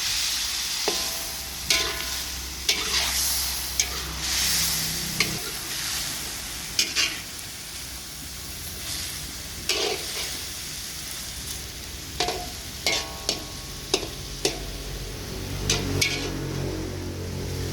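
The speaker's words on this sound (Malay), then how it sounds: "Hati pedas ni kita kena goreng lagi deh." Chicken liver and gizzard stir-fry with dried chili in a pan, giving a soft continuous sizzle broken by intermittent scraping and clattering spatula strokes, fairly quiet and with no talk.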